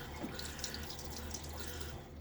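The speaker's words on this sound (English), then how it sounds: "I'm going to put just a little bit more water in it" A small trickle of tepid water drips and splashes softly into a shaving lather bowl, faint and close against a low background hum.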